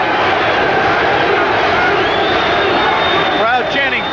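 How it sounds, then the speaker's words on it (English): A boxing arena crowd chants 'Pete' for Pernell Whitaker during his fight with Roger Mayweather, a dense, steady roar of many voices filling the whole clip with a whistle-like tone rising near the end. "Crowd chanting Pete, Pernell Whitaker's other nickname"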